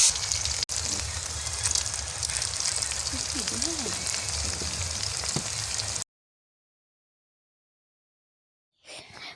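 Onions frying in oil for biryani, a steady broadband sizzle and crackle for about six seconds before cutting to silence, with a brief burst of sound at the very end.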